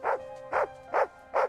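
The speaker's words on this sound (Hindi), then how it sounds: "कुत्ते बिना वजह भौंकने लगते हैं" A dog barks four times in an even rhythm, short mid-pitched woofs spaced about half a second apart, fairly close and alone.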